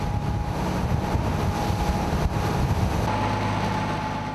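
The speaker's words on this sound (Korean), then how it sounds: "선박 옆에서 거세게 불어오는 갈바람." Strong wind blows hard beside a ship at sea and roars against the microphone as a constant heavy rumble. Faint wave and engine wash mixes in underneath.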